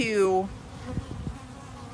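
Honeybees from a three-pound package buzzing in a steady, dense hum, with a brief voice at the start and a few soft knocks during a hive installation.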